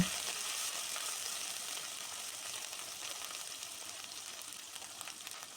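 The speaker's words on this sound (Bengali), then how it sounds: "এবার পেঁয়াজটা হালকা ভেজে নেব" Onion paste sizzles lightly in a pan for prawn malai curry, a soft, steady frying hiss that fades slightly over time, quiet and close with no voices.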